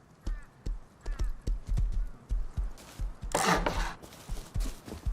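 Horse hooves clip-clopping in Rust: a steady rhythm of hollow, close knocks at a walking pace, with a brief burst of broadband noise partway through.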